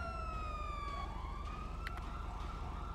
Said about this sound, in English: I don't know how to turn my sirens off.